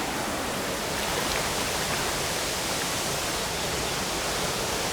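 A jungle river flows in a steady, dense wash of rushing water, loud and close, holding an even broadband hiss without pause and no voices.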